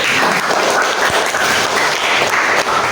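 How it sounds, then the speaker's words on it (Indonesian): Students in a classroom applauding together, a steady, full wash of clapping at close range that stays even and loud throughout. "Tepuk tangan untuk kita semua."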